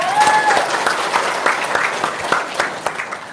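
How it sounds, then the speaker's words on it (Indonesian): Audience applause at an Islamic religious lecture for the Prophet's birthday, a dense, steady burst of many hands clapping close by, with a brief tonal whistle early on. "Tepuk tangan dong."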